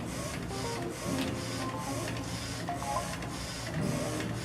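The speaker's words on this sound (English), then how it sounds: "the printer is going to start first by printing the white underbase" An Omniprint garment printer lays down a white ink underbase, its print head shuttling back and forth in a steady mechanical whir with regular rhythmic passes, close and continuous.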